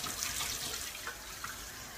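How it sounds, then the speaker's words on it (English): A tap runs steadily into a sink during face washing, giving a soft, continuous hiss of flowing water with slight splashes, heard quietly and alone. "I'm now going to wash my face properly"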